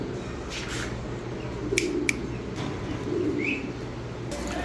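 Silver pigeons in a crowded loft at Keraniganj give soft, low, continuous cooing, steady and close, with a few brief sharp chirps and rustles over it.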